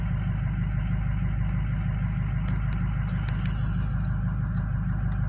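Pickup truck engine idling close by with a deep, steady rumble and a regular throb, a few faint clicks above it.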